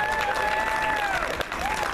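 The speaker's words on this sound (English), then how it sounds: "Let's give them all a big round of applause, folks" Crowd applause for guests at the Geeknomicon 2014 convention opening ceremony, a steady clatter of clapping with a sustained whistling tone running over it and a voice faintly underneath.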